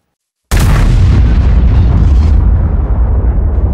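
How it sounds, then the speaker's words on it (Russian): A grenade blows up in Minecraft with a sudden, loud booming blast after a short silence, followed by a dense rumbling roar that trails off over several seconds. "ну взрыв мощный"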